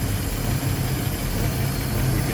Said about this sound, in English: You can see, nice smooth running engine. Sounds good.